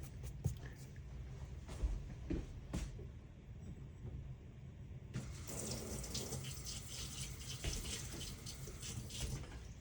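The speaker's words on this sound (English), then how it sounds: "we want to bring in just a little bit of what we call fat water to be able to start making that patch" Water pours and trickles into cement mix while a concrete countertop patch is made, first as intermittent splashes and then as a fuller, steady stream of pouring.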